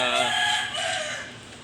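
A rooster crows loudly and close by in one drawn-out call that fades toward its end.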